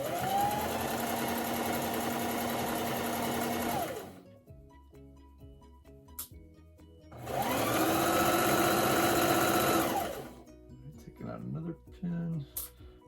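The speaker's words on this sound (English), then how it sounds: "You just want to make sure everything's working right so you can sew, get your hood sewn," A sewing machine stitching a mask hood runs in two loud, steady whirring bursts of about four and three seconds, separated by a quiet pause, with small handling clicks near the end.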